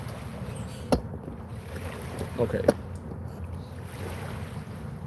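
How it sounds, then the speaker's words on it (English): Water flows outdoors in a steady wash, with a soft rushing bed and some wind, while a voice speaks briefly and a few knocks sound. "The water sounds great."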